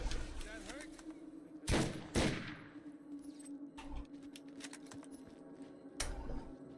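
Gunfire in the video game Borderlands, a few sharp bursts of shots separated by gaps, over a game hum and the clatter of keyboard and mouse, with someone talking quietly between shots.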